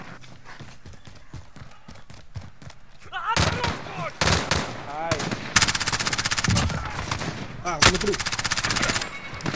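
Rapid bursts of automatic gunfire and sharp shots from a co-op video game shooter, loud and close, crackling in repeated volleys over frantic shouting between players.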